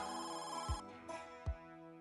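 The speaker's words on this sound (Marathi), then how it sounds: "नाही नाही फोनच वाजतोय वाटतं" A telephone rings indoors in a home: a steady electronic ringtone runs through the whole stretch, broken by two brief low thumps, with no one speaking.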